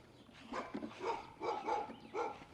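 A young livestock guardian puppy named Russ barks repeatedly nearby, about five short, fairly quiet barks in a loose rhythm with brief gaps between them.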